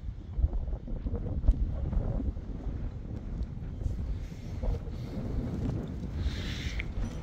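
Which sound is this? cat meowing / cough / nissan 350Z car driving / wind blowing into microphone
wind blowing into microphone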